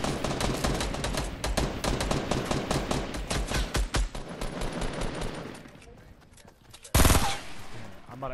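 Fortnite Battle Royale gunfire, many fast sharp shots rattling in quick bursts at first, thinning out to scattered cracks, then one loud blast near the end, with speech mixed in underneath.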